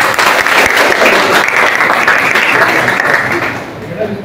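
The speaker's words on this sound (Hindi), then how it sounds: "ताली बजाओ।" Audience applause at a school event, dense steady clapping from a crowd that holds loud and even before tapering slightly at the end, with some voices mixed in.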